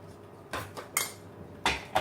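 Fish pieces being tossed with salt, red chilli powder, turmeric and coriander in a bowl, heard as a few sharp clinks and scrapes of a utensil against the dish, close and quiet, with no talking.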